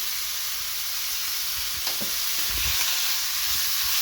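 A steak sizzles in a hot pan just after being turned over, a steady close hiss with a few soft bumps and scrapes partway through.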